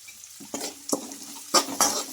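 A spoon scrapes and knocks through chopped onions, tomatoes, turmeric and salt frying in a pan, giving four or five distinct close stirring strokes over a soft sizzle.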